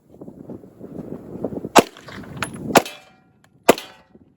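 Three sharp, loud double-action handgun shots ring out at uneven intervals during a Christmas shooting session, each cracking over a low rumble of background noise and followed by a short tail of echo.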